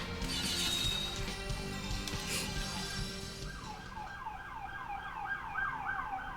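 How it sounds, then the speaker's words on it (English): A wailing emergency siren, police car or ambulance, sweeping up and down repeatedly in the latter half over a low rumble of traffic. "I think that's more so a police car than the ambulance"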